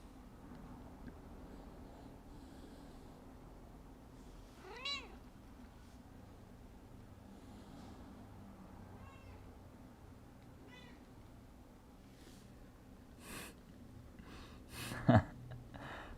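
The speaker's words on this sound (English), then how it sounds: "I changed my cat's food last night, and she's been giving me a time, let me tell you. She's not happy." A pet cat meows several times, quiet and somewhat distant, over a low room hum during a home yoga workout. The cries are short and spaced apart, and a sharper sound comes near the end.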